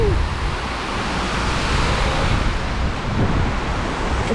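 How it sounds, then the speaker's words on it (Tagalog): Strong wind blows outdoors in Wan Chai, Hong Kong, a steady, loud broadband rush buffeting the microphone for the whole stretch, with no clear talk over it. "Sobrang lakas ng hangin."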